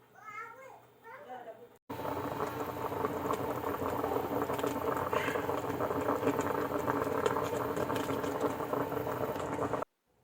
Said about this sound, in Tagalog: Tapos tatakpan natin yan. Pakukuluan natin ng 45 minutes.